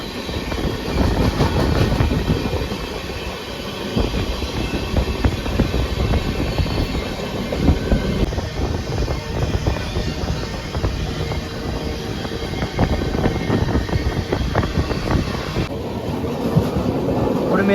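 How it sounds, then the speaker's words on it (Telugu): MGR Chennai Central to Charlapalli Superfast Express train passing close by with a loud, continuous rumble and rhythmic wheel clatter that holds steady throughout, with no talking. "ఇప్పుడు మీరు చూస్తున్న ట్రైన్ వచ్చేసి MGR Chennai central to Cherlapalli super fast express అండి."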